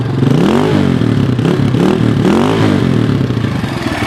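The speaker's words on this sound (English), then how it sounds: "I'll do a couple more revs." A 2003 Honda CRF230F dirt bike engine, idling close by, is revved three times in quick rising-and-falling sweeps, loud and alone with no talk over it.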